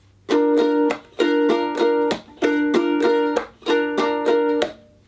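A ukulele is strummed in a down-up pattern with a percussive tap on the body, repeated in four even bars of ringing chords, each broken by the sharp knock of the tap, with no voices.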